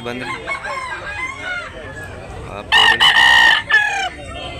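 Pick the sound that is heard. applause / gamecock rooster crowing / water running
gamecock rooster crowing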